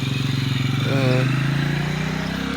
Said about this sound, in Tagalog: Kuha ka muna ng motor doon.